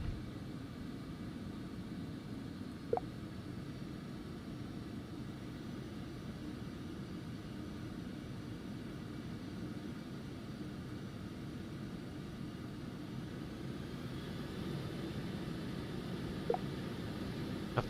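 Twin jet engines of an Embraer Phenom 300 roar steadily through a takeoff roll in the X-Plane 11 simulator, a broad, continuous rumble with a faint whine that swells slightly near the end, punctuated by a couple of brief clicks.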